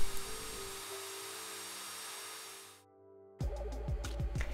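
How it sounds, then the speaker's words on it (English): A power drill fitted with a small bit bores holes in the corners of a part for an LED task lamp. Its steady high whine runs for a few seconds, stops, then gives way to choppy, rhythmic grinding bursts. "Next, I proceeded to drill out the holes in the corners."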